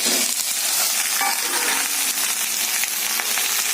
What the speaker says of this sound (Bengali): ভালো করে ভাজা হয়ে যাচ্ছে।